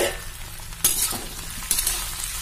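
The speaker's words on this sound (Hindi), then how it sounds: "ये मैंने आलू डाल दिए और अभी इसे ढक के बीच में चलाते हुए 2 से 3 मिनट भून लेते हैं" Potatoes frying in a pan while a spring onion and potato fry is cooked over medium heat, with a steady close sizzle and two sharper bursts as the pieces are stirred.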